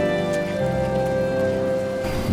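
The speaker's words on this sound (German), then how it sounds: "Wir werden nach wenigen Metern von einem deftigen Schauer ausgebremst." A heavy rain shower beats down steadily during a walk, a dense even hiss of drops on hard surfaces that fills the whole stretch, with a faint steady hum underneath and no voices.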